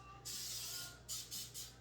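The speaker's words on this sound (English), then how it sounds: "I'm just going to give our pan a little spray." Cooking oil spray onto a pan, one long hissing burst followed by three short sprays, close and fairly quiet.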